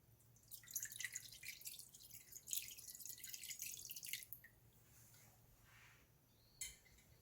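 Water poured into a cooking pot from a measured 600 ml amount, a bright splashing stream in two bursts of about four seconds, then a trickle and a brief final splash, close and fairly quiet with no talking.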